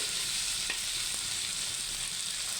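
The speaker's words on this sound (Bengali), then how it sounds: "এই যে শুকনো মরিচ এগুলো সব ভেজে নিয়ে এই যে এখন এটাকে সুন্দর করে হালকা একটু ভেজে নেব" Dried chillies fry in a pan, giving a steady, close sizzle with light crackles and stirring noises and no talking.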